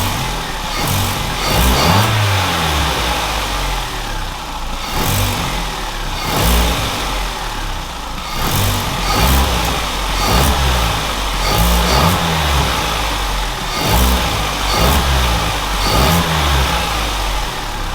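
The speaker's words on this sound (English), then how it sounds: "So let's give it a few revs and hopefully this air filter has made a difference." A hot hatch engine fitted with a new air filter, warmed up to temperature, is revved repeatedly from idle, each blip rising and falling in a steady rhythm of about eight loud, close revs with no talking.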